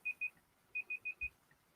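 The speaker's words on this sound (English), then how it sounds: "Let me just turn off that timer." Timer alarm beeping in short high electronic tones: two quick beeps, a pause, then four more in an even rhythm, fairly clear over a quiet room.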